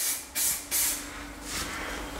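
Short hissing bursts from a DNA spray paint can coating a synthetic gun stock, several quick sprays close by with brief pauses between, no talking.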